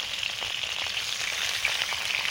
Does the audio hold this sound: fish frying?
yes